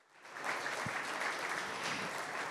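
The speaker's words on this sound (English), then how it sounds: "I would like to ask everyone to applaud him." An audience at an outdoor opening ceremony for a sculpture applauds the sculptor, steady dense clapping that swells in quickly and holds evenly for the rest of the moment, fairly distant and soft.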